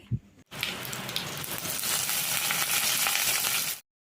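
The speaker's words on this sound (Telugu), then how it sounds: "వీటిని ఒకసారి ఫ్రై చేసుకోవాలి మంచి స్మెల్ వస్తుంది అప్పటిదాకా లో ఫ్లేమ్లో పెట్టి ఫ్రై చేసుకోవాలి" Tempering spices fry in oil over a low flame, a dense steady sizzle that starts abruptly after a brief clatter and then cuts off, close up and with no speech.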